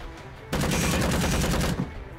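Rapid burst of gunfire in the video game Empire of Sin, a dense, loud volley of shots lasting over a second after a quiet start, then trailing off.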